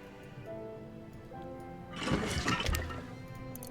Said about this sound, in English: we'll drop some water now. Pour it out.